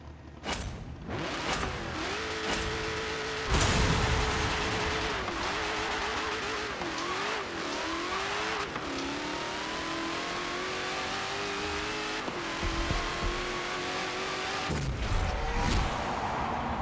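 Drag race car in Forza Motorsport 7, tuned with 55 PSI fronts and 15 PSI rears, launches with wheel spin, engine revving hard and rising through gear changes in a loud, sustained run.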